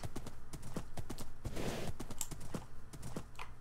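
Minecraft horse hooves galloping, a fast steady run of clip-clop hoofbeats, faint and close, with a brief rushing burst midway and no talk.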